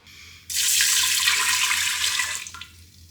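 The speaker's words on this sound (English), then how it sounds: "I've got in here just 2 cups, which is 480 ml of cold water. So you want to pop that in your cooking pot as well." Two cups of cold water pour steadily into the cooking pot of an Instant Pot, a loud continuous splashing gush that runs for a few seconds and then tapers off.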